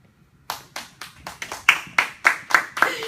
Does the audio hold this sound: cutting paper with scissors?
no